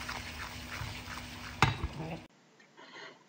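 Flour and fat sizzle and scrape in a pan as a spoon stirs them for béchamel, a soft frying crackle with a sharp clink of utensil on metal, then the sound drops away abruptly to near quiet.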